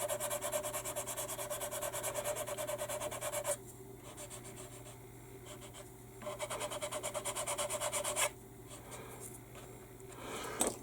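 Sandpaper rubbed over a plastic Airfix 1/72 B-17G model to smooth filler, quick rhythmic rasping strokes in bursts with short pauses between, close and fairly quiet over a low steady hum.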